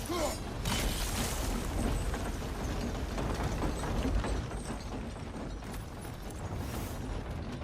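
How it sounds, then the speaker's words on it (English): In God of War Ragnarök, a heavy stone block mechanism grinds and ratchets as it comes down, a continuous rumbling clatter of gears and stone, close and fairly loud throughout. "The block's coming down."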